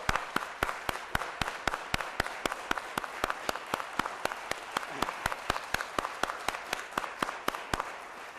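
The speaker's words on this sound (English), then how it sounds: "I think that deserves a big round of applause" A crowd at the NASDAQ opening bell ceremony applauds steadily, with sharp individual claps standing out above a dense, even wash of clapping throughout.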